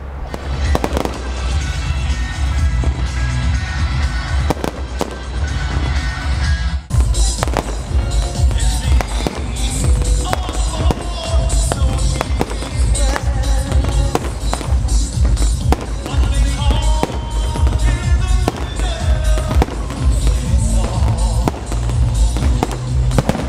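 Fireworks bursting in rapid succession at a Bastille Day (14 July) display in Orchies, loud sharp cracks and booms overlapping continuously with crackling, a brief lull near the start.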